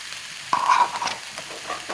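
Yellow and green bell peppers tumble into a hot frying pan for chicken pinwheel filling, giving a brief burst of close sizzling and frying followed by softer stirring scrapes.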